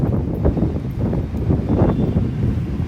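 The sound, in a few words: wind blowing in a wind tunnel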